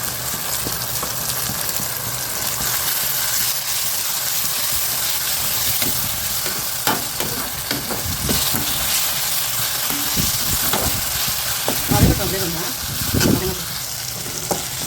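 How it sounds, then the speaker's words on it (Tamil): Ginger garlic paste sautéing with onion and tomato for a spicy chicken fry, a steady close sizzle with intermittent stirring scrapes and clatters throughout, no talking. "கொஞ்சம் வதங்கட்டும். இஞ்சி பூண்டு பேஸ்ட் கொஞ்சம் போட்டுக்கலாம்."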